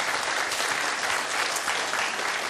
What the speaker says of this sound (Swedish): det tycker jag är värt den största applåden här ikväll